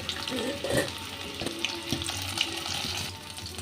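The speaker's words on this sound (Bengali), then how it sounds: "আলুগুলো খুব সুন্দর ভাজা হয়ে গেছে।" Potato pieces fry in hot oil with a close, continuous sizzle, broken by a few clinks and stirring scrapes.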